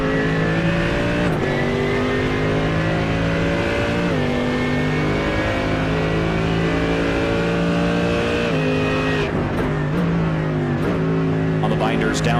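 The Mercedes-AMG GT3 Evo's naturally aspirated 6.2-liter V8 roars loudly in a racing video game at Watkins Glen, climbing through revs with repeated upshifts and drops in pitch, while a commentator talks over it.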